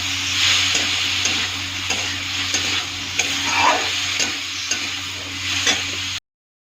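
Vegetables being stirred in a hot pan after a pinch of turmeric and salt goes in, giving a loud, continuous frying sizzle with a few soft utensil scrapes, ending abruptly in silence.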